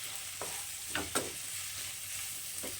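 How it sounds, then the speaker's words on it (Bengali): Potatoes and onions fry in a pan, a quiet steady sizzle broken by a few short scraping stirs, with no talking. "এবার আমি আলুগুলো দিয়ে দেবো। এটাকে এখন আমি খুব ভালো করে ভেজে নেব।"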